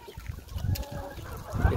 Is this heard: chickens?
yes